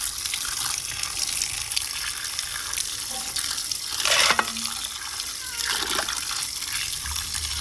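Squid is rinsed under a running tap in a village-style kitchen. The water gushes loudly and continuously, with splashes and clatter midway as the squid is handled.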